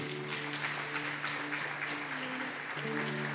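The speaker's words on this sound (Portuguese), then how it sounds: "Uma salva de palmas para o Senhor" Church congregation clapping in praise during an evening service, a steady moderate wash of applause under a sustained organ or keyboard chord.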